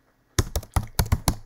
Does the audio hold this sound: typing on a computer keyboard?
yes